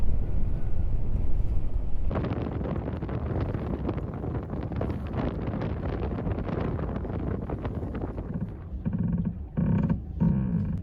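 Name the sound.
strong wind blowing outside a docked sailboat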